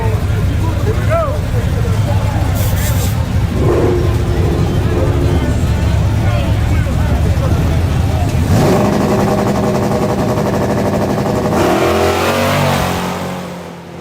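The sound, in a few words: Studebaker drag car making a fast pass at the dragstrip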